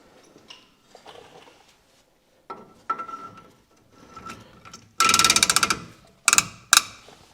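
A tightly adjusted rear brake on a 2005 Ford F-350 scrapes and grinds in uneven bursts while it turns, close and fairly faint at first, then a louder rasping drag and a few sharp scrapes near the end.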